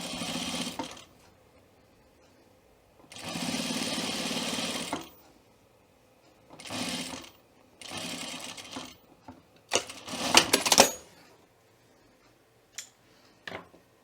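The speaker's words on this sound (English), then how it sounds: "I'm going to sew just the length of the line that's on my garment" A sewing machine stitches a welt pocket seam on a garment in several separate bursts, each running a second or two with quiet pauses between, ending with short clicks and handling noises close by.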